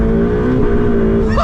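Ferrari 488 Pista mid-engine V8, 711 horsepower and rear-wheel drive, driving along with a steady, loud engine drone heard from the cabin, rising in pitch near the end as it revs up.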